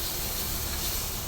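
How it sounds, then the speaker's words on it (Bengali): A blended paste of kalo jeera, onion, garlic and green chilies fries in a pan, giving a close, steady sizzling hiss with no break. "এখন একটু ভেজে নিচ্ছি"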